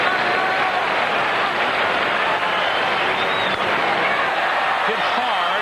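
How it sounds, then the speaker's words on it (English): Dodgers home crowd at a 1995 playoff baseball game in Los Angeles, a broad, continuous roar of stadium noise and cheering building steadily, loud and diffuse with no distinct voices standing out. "The Dodger crowd beginning to make a little noise."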